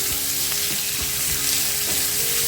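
Onions sautéing in a pan, a loud continuous sizzle with faint soft scrapes of stirring now and then, no one speaking.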